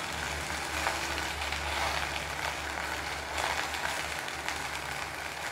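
Taro leaf pakode fry in mustard oil while being turned with a fork, a continuous close bubbling sizzle with faint scraping stirs layered over a low steady background hum.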